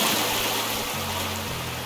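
Steady rushing water fills the clip, a continuous broadband roar with a low mechanical hum underneath, a waterfall playing nearby in the video game Gold Rush The Game.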